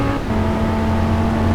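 An Audi RS3 engine at full throttle, a loud continuous droning roar with steady low tones, heard up close with no talk over it.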